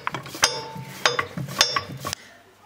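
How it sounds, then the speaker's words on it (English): A filter wrench tightens the oil filter on a vintage Ferguson tractor, giving repeated ratcheting, clanking metal strokes in an uneven rhythm, close and fairly loud, ending abruptly. "So we're just finishing off tightening the filter up. This one's been particularly awkward, so I've put my filter wrench on it."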